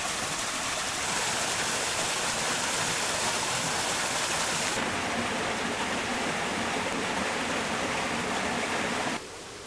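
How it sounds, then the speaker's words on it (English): Brook water diverted into a small mill's sideways paddle wheel makes a steady, close rushing hiss that holds constant for about nine seconds before dropping away, with no voices. "Another interesting kind of mill where the water is diverted out of a little brook"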